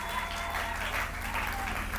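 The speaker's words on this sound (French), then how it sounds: "Applaudissez très fort pour le" Applause in a French-speaking church service, a soft continuous wash of clapping under a low steady hum and faint voices, short and fairly quiet.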